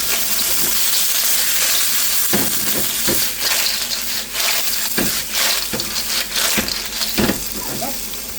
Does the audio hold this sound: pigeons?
no